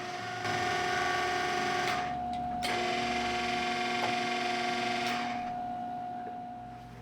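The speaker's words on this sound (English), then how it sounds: "a mechanical cam that moves with the camera as it travels up and down the column" Marron Carrel 1400 rostrum camera travelling along its column, its mechanical focus cam following, giving a steady motor whine with a sustained tone and a few sharp clicks, close and quiet.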